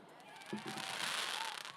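Fireworks crackle and pop continuously at an outdoor school annual day celebration, a dense noisy burst of sound throughout, with low thumps partway through and a voice faintly present.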